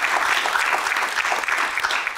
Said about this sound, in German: kleinen Applaus bitte